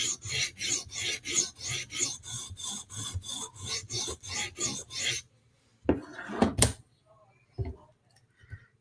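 A blade is sharpened with quick strokes on one side: about fourteen even, rhythmic rasping passes for five seconds, then silence broken by a few sharper scrapes and clinks.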